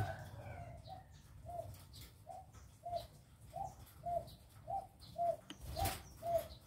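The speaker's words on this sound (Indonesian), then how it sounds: "terdengar suaranya perkutut gong" A zebra dove coos in a steady, evenly spaced series of soft, rounded notes, fairly close, over a faint background hum.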